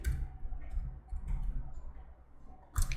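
A computer mouse clicks a few times, close and quiet, in a calm indoor setting while working in the Overleaf web editor, with one sharper click near the end; no talking.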